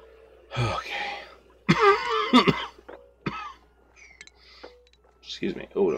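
A man coughs close to the microphone in several harsh, throat-catching bursts, separated by short pauses and a bit of throat clearing.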